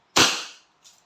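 Single close, sharp crack from a Wingun 708 2.5-inch revolver airgun firing double action, with a brief decaying tail and a faint second click just after.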